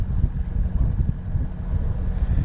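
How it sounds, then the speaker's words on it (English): Wind blowing at sea aboard a Bavaria 41 sailboat in about 13 knots, a low steady rumble with mild microphone buffeting and no voices. "we have about 13 knots of wind right now"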